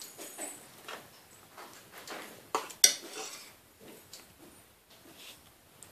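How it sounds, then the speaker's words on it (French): Spices being stirred into a pot of sambar, an Indian lentil and vegetable sauce, with soft scraping and clinking of a utensil against the pot in irregular bursts, one sharper knock partway through, close and fairly quiet. "On mélange le tout."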